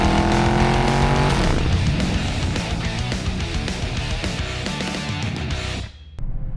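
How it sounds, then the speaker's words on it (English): A 2021 Dodge Challenger Scat Pack with an aftermarket exhaust gives a loud, continuous, deep engine roar, thick and rumbling throughout, then drops off abruptly just before the end. "what I think is the best sounding exhaust from my Dodge Challenger Scat Pack"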